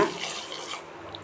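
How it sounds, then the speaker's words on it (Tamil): A brief splash of water pours into a bowl, close and moderately loud, fading out quickly. "இதுலேயேங்க ஒரு பவுல் நான் தண்ணி ஊற்றிக்கிறேங்க"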